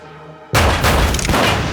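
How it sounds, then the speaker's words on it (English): A sudden loud blast cuts in after a quiet tonal lead-in, followed by a rumbling, crackling burst like gunfire echoing. "When Rebecca hears gunshots in the middle of the night"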